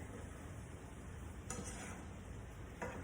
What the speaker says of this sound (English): I'm going to use my same spoon and give this a nice toss